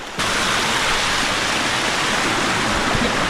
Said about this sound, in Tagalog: At least running water, pre, no? Running water pa rin.